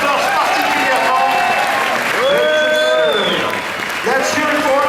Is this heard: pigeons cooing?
no